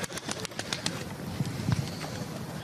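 Pigeons coo inside a small wooden dovecote in wartime Donetsk, a few soft, low coos sounding quietly against faint rustling and background noise, with no one speaking.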